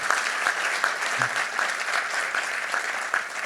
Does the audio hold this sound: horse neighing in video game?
no